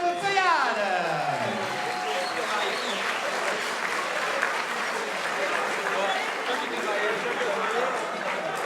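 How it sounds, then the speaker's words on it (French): Audience applause at the OFAC 2014 award ceremony: a voice speaks briefly at the start, then a dense, continuous wash of crowd clapping fills the hall at steady loudness. "Merci d'applaudir."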